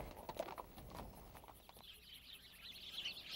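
Birdsong drifts through open timber country on a dude ranch, with faint chirps and trills above soft thuds and rustling at the start, all quiet and fairly distant.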